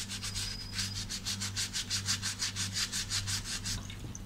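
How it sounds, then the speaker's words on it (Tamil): A gas burner scrubbed with normal dish wash makes a rhythmic back-and-forth rasping scour, about four strokes per second, close and steady with a low hum beneath. "இப்போது இந்த மாதிரி நல்லா நார்மல் டிஷ் வாஷ் வச்சு நல்லா க்ளீன் பண்ணி தேய்ச்சி எடுத்துக்கலாம்"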